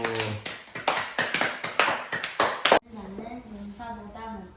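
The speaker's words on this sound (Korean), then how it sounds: "하나님께 영광의 박수" At a Christian summer camp, a crowd bursts into rhythmic clapping for nearly three seconds, loud and close, then the clapping stops abruptly and a voice talks.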